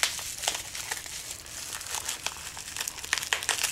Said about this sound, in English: I have so much to unwrap.